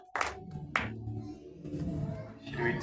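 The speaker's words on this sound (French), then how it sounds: "Applaudissez pour le Seigneur." A church congregation claps during worship: two sharp, separate claps ring out near the start, then a steady murmur of voices and sound follows.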